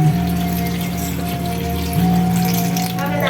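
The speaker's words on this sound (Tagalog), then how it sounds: "dagdagan na lang natin ng tubig para malaga ng gusto yung ating gabi" Water is poured steadily into a cooking pot of taro, making a continuous, loud splashing stream with a slight pitch change near the end.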